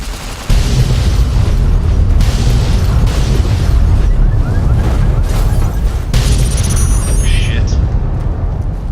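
Cars blowing up in a video game produce a loud booming blast followed by sustained roaring rumble and crackling debris, continuous and close throughout.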